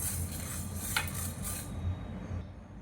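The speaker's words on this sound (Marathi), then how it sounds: "कुठलंही धान्य भाजताना जरा हलवत राहायचं" Whole green moong dry roasts in a pan and is stirred continuously, making a steady, close rattling scrape of grains against metal that fades slightly toward the end.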